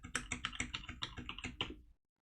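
Quick bursts of keystrokes on a computer keyboard as values are typed in, about a dozen close, crisp clicks in an uneven rhythm that then stop into silence.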